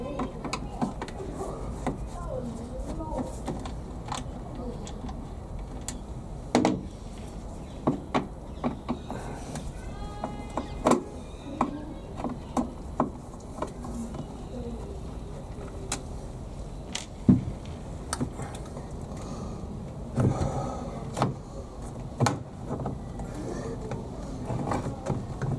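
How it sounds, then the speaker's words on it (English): The door of a Beko WMA washing machine is worked off its hinges, giving scattered metallic clicks, knocks and ratcheting clunks against a low background over about half a minute. "These doors are the worst to remove with these stupid hinges."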